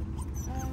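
A golden Aussiedoodle puppy lets out brief thin whimpers, close and fairly quiet, over a low background hum.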